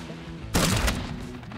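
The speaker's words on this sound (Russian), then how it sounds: "давайте сделаем красивый взрыв" A bomb blast in the sandbox building game Scrap Mechanic, blowing apart part of a truck: one sudden loud burst hits the quiet, then rumbles and crackles for about half a second before fading to low background hum.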